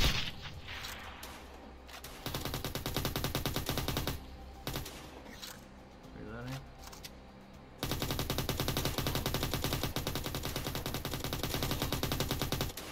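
Rapid automatic gunfire as guns empty magazines into a tough zombie in a spooky ghost video game, loud sustained bursts of shots that pause briefly midway with some other game sounds, then resume in a long continuous stream.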